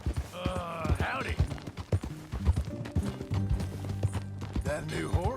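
Horse hooves clip-clop in the Red Dead Redemption 2 video game, a rhythmic run of hoof knocks on the ground heard under steady conversation between characters and a brief neigh.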